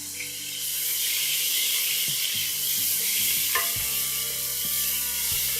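Ginger garlic paste sizzles in a hot frying pan with onions while a spoon stirs and scrapes, a steady close hiss broken by intermittent clinks and scraping strokes, no voices.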